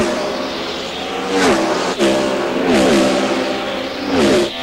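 An IndyCar engine roars continuously from onboard at Phoenix in 1998, its pitch sweeping up and down through gear changes and throttle lifts, loud and close.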